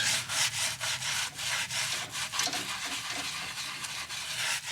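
Stiff nylon brush scrubbing thick rust in the engine bay of a Mercedes 450SL R107, a steady run of close, rasping back-and-forth strokes with a quick even rhythm and no talk.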